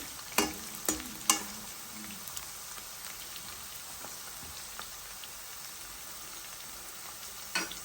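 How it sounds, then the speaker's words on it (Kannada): Peanuts and raw lentils frying in oil in a pan while being stirred, for capsicum lemon rice: a faint, steady sizzle with a few sharp spatula clinks early on and one more near the end. "ಶೇಂಗಾ ಬೇಗ ಹಾಕ್ಕೊಂಡು ಹುರ್ಕೋತಾ ಇದ್ದೀನಿ ಆಯಿಲೆಲ್ಲ ಸ್ವಲ್ಪ ಚೆನ್ನಾಗಿ ಫ್ರೈ ಆಗಬೇಕು"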